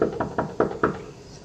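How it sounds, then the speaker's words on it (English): Five evenly spaced knocks rap on a bedroom window at night, close and distinct, each with a short hollow ring, followed by quiet. "the knock at the bedroom window."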